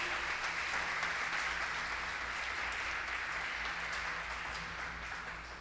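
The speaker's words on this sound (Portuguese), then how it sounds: "Se você entendeu, dá um aplauso ao Senhor por isso." A church congregation applauds in a continuous, even wash of clapping that stays distant and fairly quiet, fading slightly toward the end.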